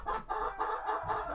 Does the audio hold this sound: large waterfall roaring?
no